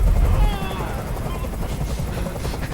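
A helicopter's rotor in the video game Detroit: Become Human chops steadily in the background, fairly faint, with a distant rumble and a brief burst of noise at the start.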